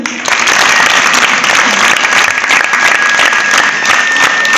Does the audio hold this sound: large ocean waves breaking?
no